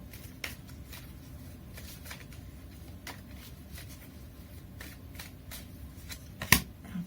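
Tarot cards are shuffled and drawn for a reading, with soft, scattered riffling and flicking sounds repeated through the clip and one sharper snap near the end, all quiet and close.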